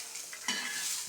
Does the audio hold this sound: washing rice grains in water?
no